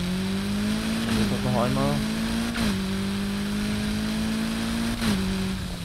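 A car engine in the video game Need for Speed Heat holds a loud, steady drone with a brief rev and small pitch dips, while someone speaks German over it.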